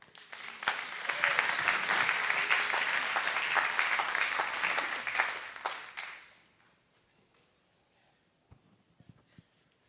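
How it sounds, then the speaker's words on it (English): A church congregation claps together for about six seconds before the applause fades to near silence, with a few scattered claps at the end. "Let's give the Lord a hand clap."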